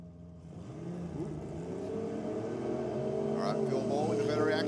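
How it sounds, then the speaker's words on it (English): Nostalgic drag racing cars at a drag strip shootout rumble and build steadily in a rising engine drone, heard at moderate distance beneath a commentator's ongoing voice. "Nostalgic drag racing."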